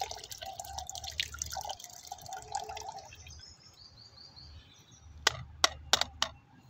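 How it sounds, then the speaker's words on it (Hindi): Homemade organic fungicide liquid is poured through a strainer into water, trickling and dripping close up, ending with a few sharp splashy drips. "तो अब आपने 1 लीटर पानी लेना है और इसको कुछ इस तरह से छान लेना है।"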